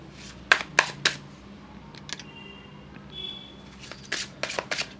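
Tarot cards handled and pulled from a spread, sharp shuffling flicks and soft card slaps coming in short clusters near the microphone, with quiet gaps and a faint tone between them.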